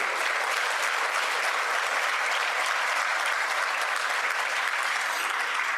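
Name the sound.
audience applause for assistant chief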